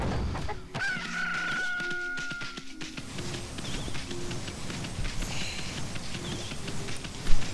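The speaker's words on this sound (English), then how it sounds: "Hey, chickens." Chickens cluck and a rooster crows in the video game Okami, with clucks and short calls near and fairly loud over a steady background.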